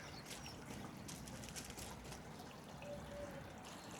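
Water running constantly through a small stream into a clear garden pond, a faint, continuous trickling and splashing that stays steady throughout with no talk over it.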